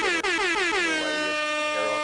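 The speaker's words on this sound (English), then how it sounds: "We also got an air horn." A loud, sustained air horn blast with a bright, brassy tone that wavers slightly in pitch, held for about two seconds.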